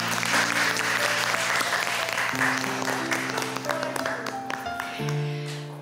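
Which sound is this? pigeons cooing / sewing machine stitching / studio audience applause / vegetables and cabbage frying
studio audience applause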